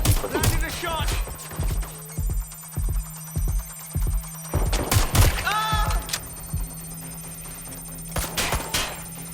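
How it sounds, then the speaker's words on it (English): Gunfire in the video game Watch Dogs Legion: a run of sharp, separate shots in uneven bursts, some close and loud, with electronic game effects and brief voice bits mixed in. "Suspect has opened fire!"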